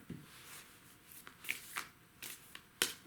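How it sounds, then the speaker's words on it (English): An oracle card deck being shuffled by hand close up, giving soft papery riffles and slaps in short irregular bursts, fairly quiet with gaps between them. "so let's see what is going on with the Moonology deck. If I could shuffle, that would be great."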